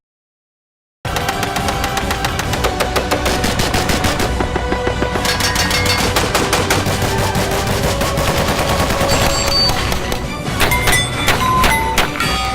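Police officers and a suspect exchange gunfire, heard as loud, rapid, repeated bursts of shots that start abruptly after a second of silence and run on densely to the end.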